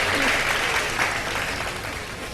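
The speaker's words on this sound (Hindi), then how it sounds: "बहुत सारी तालियां, सही है।" A television studio audience at an iftar program applauds in a dense, steady burst that tapers off slightly toward the end, with faint voices underneath.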